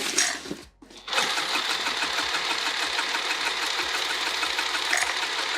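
A sewing machine stitches a vinyl tote in a fast, steady mechanical chatter, briefly pausing near the start before resuming its continuous close, loud run.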